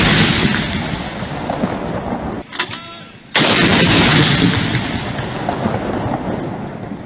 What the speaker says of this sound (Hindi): दिन का आगाज तोपों की सलामी से हुआ।